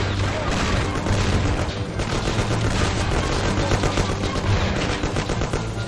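Rapid, continuous gunfire in the video game XIII, dense loud bursts overlapping with booms, shouted voices faintly mixed in.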